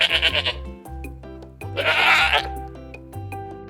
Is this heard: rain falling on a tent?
no